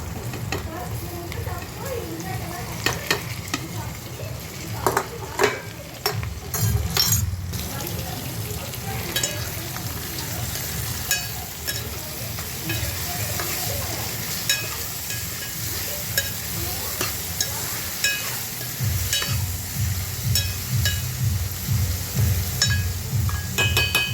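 Tomato, carrot and potato pieces frying for Maggi noodles, a steady close sizzle with repeated stirring scrapes and light clinks from a pan, continuing throughout without speech.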